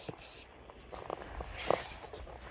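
Rust-Oleum metallic finish spray paint is sprayed onto a homemade Mandalorian helmet in a few short hissing bursts, close and fairly quiet, with soft handling noises between them.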